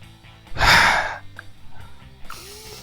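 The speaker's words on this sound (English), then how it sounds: "I'm not yawning because it's boring, I'm yawning because I'm sleepy" A sleepy person lets out one long, breathy yawn up close, rising into a loud airy swell and then trailing off into quieter breathing.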